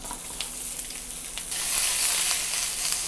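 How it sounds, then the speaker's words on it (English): Sausage and vegetables hitting an oiled pan for a breakfast stir-fry, a steady sizzle that jumps louder midway as the rest of the vegetables go in, close and alone with no talk. "let's add all the other vegetables in."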